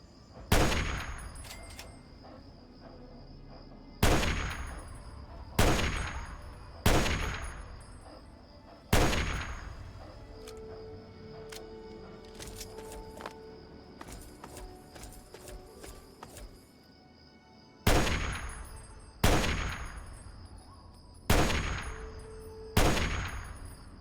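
Sniper rifle shots ring out in the Fallout 3 video game, about a dozen sharp, loud cracks with decaying tails in uneven clusters, separated by quieter stretches of metallic game sounds and clinks.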